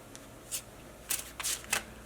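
A few quick riffling bursts of tarot cards being shuffled, close and fairly quiet, separated by short pauses.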